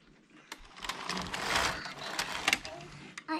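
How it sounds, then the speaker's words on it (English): A Passap E6000 knitting machine lock slides across the needle bed for one row, giving a rising and falling mechanical whir with rattling clicks, fairly close and moderately loud over a few seconds. "bring up a needle on the side the lock is on and do another row"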